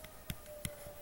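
Two light, sharp clicks of calculator buttons being pressed, spaced apart and faint, with a steady faint hum underneath and no talking.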